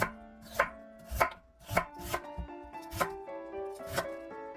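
A knife taps rhythmically on a cutting board, quick crisp chops in a steady pace as a radish is julienned into thin strips.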